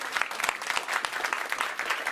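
An indoor live audience claps steadily, a dense, even patter of many hands close by that lasts throughout.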